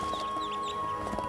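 Mother duck calling from a farm setting, steady clucking, chattering fowl voices in short bursts over a dense background of bird calls, fairly close and continuous.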